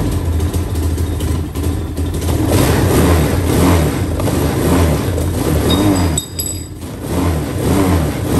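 An ATV engine on a marketplace-bought quad fires up and runs loudly and steadily up close, with uneven revving surges and a brief dip near the end before it picks back up.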